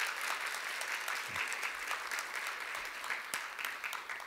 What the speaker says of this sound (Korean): 우리 환영의 박수 한번.